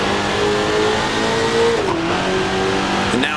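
Race car engine in Grand Prix Legends on the Dundrod circuit, a steady droning tone that dips and shifts pitch as it downshifts to second gear, held at a constant moderate level without talk.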